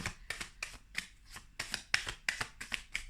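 Tarot cards handled and shuffled from a deck, a quick series of close, crisp riffling flicks at an even rhythm, quiet and with no voices.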